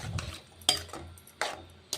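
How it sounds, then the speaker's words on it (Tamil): A spoon stirs tamarind gravy with eggplant and potato in a pan, with soft scraping and three or four sharp clicks of utensil on metal at irregular intervals, close and moderately quiet, with no talking. "நல்லா கலந்து விடுங்க."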